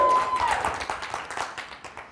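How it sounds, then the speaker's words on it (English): A conference audience clapping to welcome a speaker, a brief crowd round of hand claps, moderately loud at first and tapering off over about two seconds, with a faint tone near the start. "give a warm round of applause to Bonnie Brindle"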